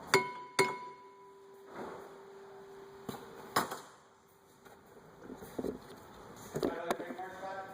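A rear brake part on a 2000 Subaru Outback is tapped to free it, giving a few sharp, close metallic clinks spaced seconds apart, with quieter handling noise between the strikes.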